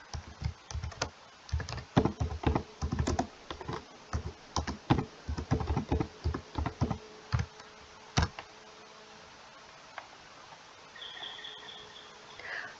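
Quick bursts of keystrokes clatter on a computer keyboard as a command is typed into a Linux Mint terminal, then a single sharp key press follows and the typing stops into near silence.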